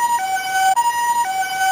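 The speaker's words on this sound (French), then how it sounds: "A comme ambulance." An electronic two-tone ambulance siren from a 2005 VTech Ma Ville Alphabet (Alphabet Town) toy wails in a steady hi-lo pattern, loud and close with no voices.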